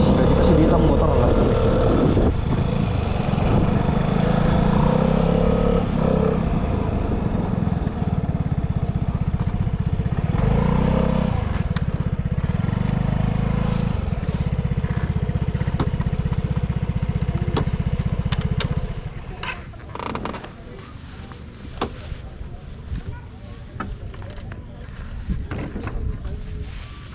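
A Vespa scooter engine drones loudly and steadily for most of the stretch, then cuts out, leaving quieter rustling and faint voices.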